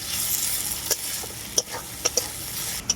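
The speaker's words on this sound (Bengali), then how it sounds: "আদা রসুন দুটোই আমি খুব ভালো করে ভেজে নিয়েছি" Ginger and garlic frying in a little oil make a soft, steady sizzle close by, broken by several sharp clicks as a spoon stirs and scrapes the pan.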